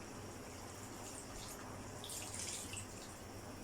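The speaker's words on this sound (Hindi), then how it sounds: "Now I add some water" Water is poured into a cooking pot of chicken and moong lentils, a faint, steady, hissing trickle that runs evenly for several seconds with no voices.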